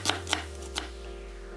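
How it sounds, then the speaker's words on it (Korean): A knife slices an onion into thick strips on a cutting board while preparing bacon kimchi stew: three crisp, close chops, unevenly spaced, over a low background hum. "먼저 양파 1개는 살짝 굵게 채 썰어 담고"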